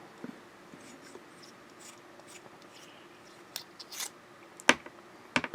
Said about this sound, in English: So let's unscrew it.